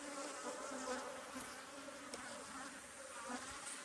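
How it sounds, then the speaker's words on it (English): Honey bees packed inside an open, strong hive drone in a dense, steady buzz, quiet and continuous with small swells. "packed full of bees"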